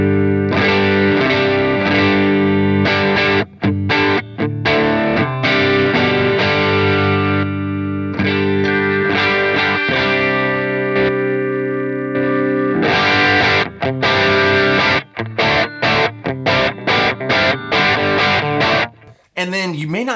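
An electric guitar runs through the POD Go's drive block set up as a Tube Screamer with boosted mids, playing loud, thick, distorted chords and riffs with short pauses between phrases, close and continuous.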